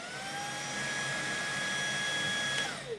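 A Xiaomi Dreame V11 cordless stick vacuum hums in eco mode with a high, steady motor whine that rises in pitch and settles, then winds down near the end; close and alone, no talking.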